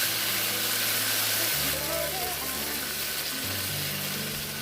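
Steamed tomatoes being stirred into a hot sizzling pot of yam pottage, a constant loud hiss of frying with low mechanical hum and faint scraping, a brief whine partway through.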